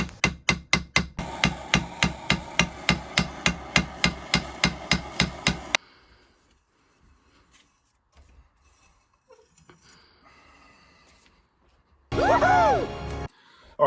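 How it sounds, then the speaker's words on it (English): Rapid, steady light hammer taps ring out on metal of a 1968 Buick Skylark, loosening parts, about two dozen sharp strikes, followed by quiet and then a brief burst of squealing noise. "And also some light hammer tapping to help loosen things up."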